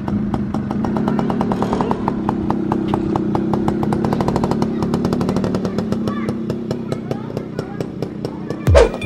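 A motorcycle engine warming up, idling close by with a steady, rapid pulsing putter throughout; a brief louder rev or thump comes near the end, and faint voices may sit under the engine.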